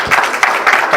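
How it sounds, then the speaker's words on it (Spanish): Audience applause for a speaker at a conference: a brief, close burst of many hands clapping in dense, even pulses. "Así que un aplauso para Danilo Manera."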